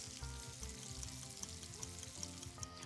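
Okra frying in a pan of oil for Southern fried okra, giving a steady close crackling sizzle that runs without a break alongside some low tonal hum and clinks.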